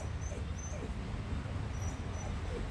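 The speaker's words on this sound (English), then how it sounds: "my dog is acting up" A dog whimpers and yips in short, strained bursts under a steady low rumble of room noise, fairly faint and continuous throughout.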